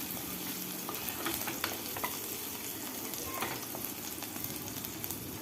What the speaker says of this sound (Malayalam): കടായി വെച്ച് 1 ടേബിൾ സ്പൂൺ വെളിച്ചെണ്ണ ഒഴിച്ച് 7 അല്ലി വെളുത്തുള്ളി ചതച്ചതും 4 പച്ചമുളക് വട്ടത്തിലരിഞ്ഞതും കൂടി എണ്ണയിലിട്ട് കൊടുക്കാം